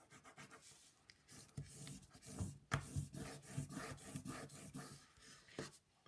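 Foil is burnished onto a glued card by hand, giving quiet, close rubbing and scratchy rasping strokes in an uneven rhythm, with no talking.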